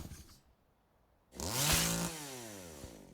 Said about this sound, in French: Et maintenant, je vais faire l'animation de la tronçonneuse.